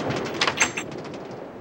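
A door opening in Minecraft, a short scraping creak lasting under a second, close and moderately loud over a faint hiss.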